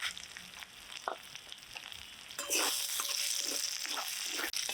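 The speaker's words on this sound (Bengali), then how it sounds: "এই তেলে এই ফোড়ন দিব আর তেল দেব না দিলাম দুটো শুকনো লঙ্কা তেজপাতা গোটা জিরে এলাচ দারচিনি" Dry chilli, bay leaf, whole cumin, cardamom and cinnamon hit hot oil and fry with a steady crackling sizzle that swells louder partway through, close up, with occasional stirring clinks.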